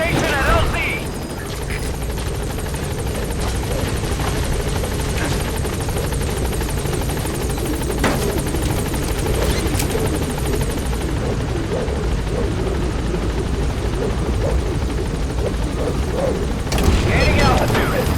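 A helicopter in the Metal Gear Solid V video game arrives at a landing zone, its loud rotor thrum and engine drone steady and close throughout, with occasional thuds, a distant gunfire-like crackle, and game radio voices talking over it.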